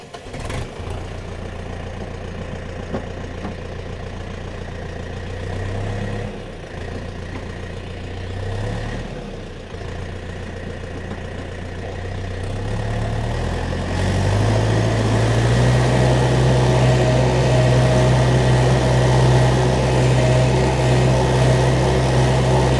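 An MTZ tractor engine works hard while ploughing virgin land with a 2/30 plough, a loud, steady diesel drone close by that rises and settles into a heavier, stronger pull partway through.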